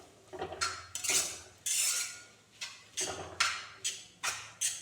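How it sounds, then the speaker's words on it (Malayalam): Chicken roll filling being stirred in a pan, about ten crisp scraping strokes of a spoon against the metal, spaced at an irregular rhythm, close and moderately loud. "ഇതെല്ലാം കൂടി ഒന്ന് ഇളക്കി മിക്സാക്കി"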